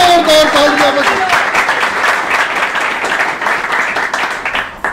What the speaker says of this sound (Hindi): आइए जोरदार तालियां बजाएं